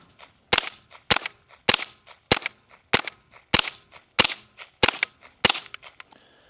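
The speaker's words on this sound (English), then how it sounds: "I was shooting the Remington golden bullets" A Retay RA1522 .22LR rifle fires Remington Golden Bullet rounds: nine loud, sharp cracks at a steady pace about 0.6 seconds apart, each with a short ringing decay, and no talking.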